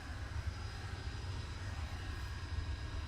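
Blackburn Buccaneer jet during a fast taxi run at Cotswold Airport, a steady, moderately distant engine roar and rumble holding at an even level throughout, with no speech.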